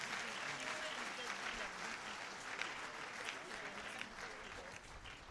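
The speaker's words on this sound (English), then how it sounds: "Ladies and gentlemen, clap for the School of Business." Audience applauding at a university School of Business 50th anniversary launch ceremony: steady, dense clapping from a crowd, sustained evenly throughout at moderate distance.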